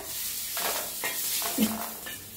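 Green chillies, peanuts and garlic roast in a pan, giving a close, continuous sizzle broken by several scraping stirs of a spoon against the metal, with no one speaking.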